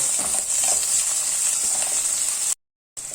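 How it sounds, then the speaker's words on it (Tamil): Onions sautéing in a pan with cinnamon and cardamom for a vegetable kurma, giving a steady close sizzle with light stirring scrapes, cut briefly by a short silence near the end. "பட்டை ஏலக்காய் வெங்காயம் நல்ல கலர் வரட்டும் பச்சை வாசனை போகட்டும்"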